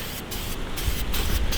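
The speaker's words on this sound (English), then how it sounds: "we're gonna give this a couple more sprays" An air filter gets four short hissing sprays of filter oil, close to the listener and spaced at fairly regular intervals, with faint handling noise between them.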